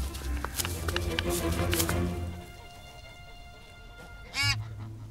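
Bar-headed geese honk repeatedly over a dense, noisy background in a Paris park, then the scene quiets before a single louder honk near the end.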